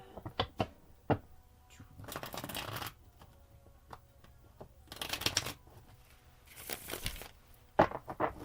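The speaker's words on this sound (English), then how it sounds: "One more shuffle, I'll pull the main energy from the top." A Yin Yang Oracle card deck is shuffled by hand in a quiet room, with several short riffling bursts and soft taps and clicks between them, close and fairly faint.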